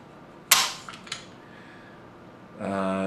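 A Ruger 10/22 trigger snaps once sharply as it is pulled against a trigger pull scale, followed by two fainter metallic clicks, then a steady hum rises near the end.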